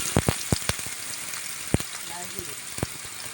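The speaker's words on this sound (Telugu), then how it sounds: "తర్వాత ఆనియన్స్ వేసుకుందాం" Onions for a village-style chicken curry fry in hot oil, a faint steady sizzle broken by several sharp ladle or pan clicks, close and without talk.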